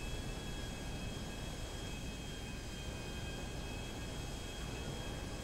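Airplane engines in a GTA racing game hum in a steady, faint drone with a thin high whine held constant throughout, no talk over it.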